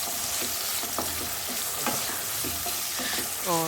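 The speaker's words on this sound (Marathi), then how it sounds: "टमॅटो पण मस्त कलसून घ्यायचं आहे" Chopped tomatoes sizzle steadily in a hot pan for aloo matar pulao while a spoon stirs and scrapes them in repeated close strokes.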